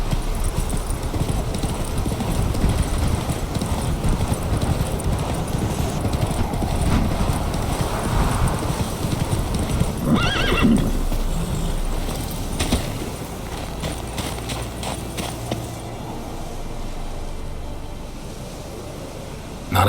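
Roach, the horse from The Witcher 3: Wild Hunt, gallops with a rapid, continuous hoofbeat rhythm that stays close and strong for most of the stretch, then eases toward a quieter ambient bed near the end.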